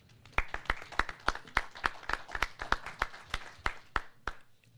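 A small audience applauds a deputy being welcomed to lead a legislative panel discussion, sparse individual claps ringing out at an irregular rhythm and fading after a few seconds, with no talking.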